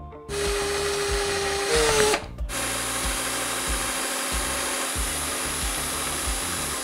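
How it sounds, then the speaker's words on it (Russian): A small power drill with a 1 mm bit cuts a groove while making a fishing jig, whirring loudly and continuously, its pitch dipping briefly before settling into a steady grinding drone. "Делать я ее буду сверлом 1 мм."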